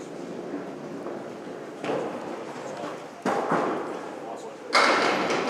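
At a candlepin bowling tournament, a thin ball thuds against the head pin and a sharp clatter of pins follows, heard amid lane rumble and crowd murmur with people talking.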